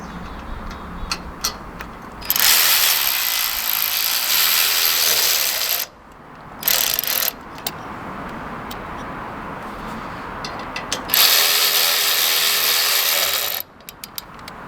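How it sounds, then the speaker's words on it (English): Ratchet tightening bolts on an LED light pod mount, close-up bursts of rapid clicking in several runs separated by short pauses, with small metallic taps between them. "Tighten that bolt up."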